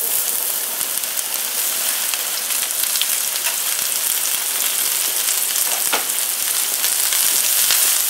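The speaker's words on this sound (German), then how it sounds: "die gusseiserne Pfanne ist ordentlich vorgeheizt. Und jetzt habe ich hier knapp 30 Gramm Butter. Und da kommen jetzt die Pilze rein." Button mushrooms fry in about 30 grams of butter in a well-preheated cast-iron pan, giving a loud, steady, dense sizzle with small crackles and pops throughout.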